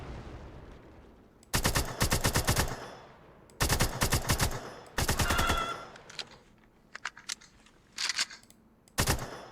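Rapid automatic gunfire from a first-person shooter video game, loud bursts of several quick shots separated by short pauses, with sharper single shots and brief tonal impact effects between them.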